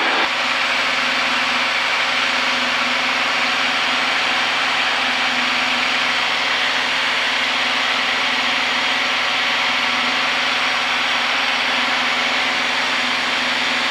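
Steady, unbroken engine drone fills the cabin of a Piper Navajo twin-engine airplane in flight, a loud, even hum with a low tonal rumble and no pauses.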